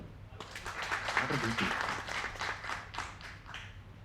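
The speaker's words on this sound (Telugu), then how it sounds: "మద్దతుగా వచ్చిన ముదిరాజులు మిగతా కులాలకి గట్టిగా చప్పట్లు." Clapping from a crowd, a burst of applause lasting a few seconds, fairly loud and close, with some voices mixed in.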